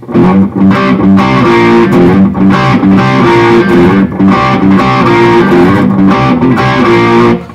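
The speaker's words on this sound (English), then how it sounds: "we play a shortened version of the riff to accompany the lead vocal in the first verse" A heavily distorted electric guitar plays a shortened version of a riff, chugging, loud and close, with rhythmic chord stabs repeating four times.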